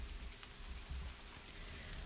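Quiet, steady rain falls outside, a soft continuous patter with a few faint drips, heard faintly at a distance with no voices.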